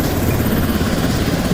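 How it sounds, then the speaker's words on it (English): Helicopter flying by in the Quarantine Zone video game, a steady dense rotor-and-engine drone that stays loud and constant throughout with no voices over it. "Is that a helicopter flying by?"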